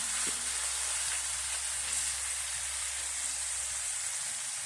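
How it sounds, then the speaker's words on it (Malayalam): Chopped banana flower sizzles steadily in a hot pan for a Kerala-style vazhakoombu thoran, a soft constant frying hiss with faint stirring and no talk. "നമ്മുടെ അരിഞ്ഞ് കഴുകി വൃത്തിയാക്കി വെച്ചേക്കുന്ന കൂമ്പും കൂടെ ഇട്ട് കൊടുക്കാം"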